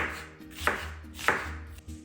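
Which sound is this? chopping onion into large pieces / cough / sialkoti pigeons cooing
chopping onion into large pieces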